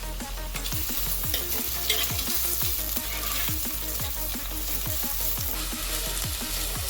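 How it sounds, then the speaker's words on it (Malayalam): Chopped onions frying and being stirred in a pan for a catfish curry, a dense continuous sizzle broken by regular scraping strokes of the spoon, close and fairly loud with no talking. "ഇനി ഇതിലോട്ട് ചെറുതായിട്ട് ഉള്ളി ഇട്ട് കൊടുക്കാം. നമുക്കൊന്ന് മിക്സ് ചെയ്ത് കൊടുക്കാം."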